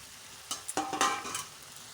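Ridge gourd and potatoes go into a hot pan with a spice paste, a quiet sizzle that swells into a short burst of frying and stirring noise, then settles back to a faint hiss.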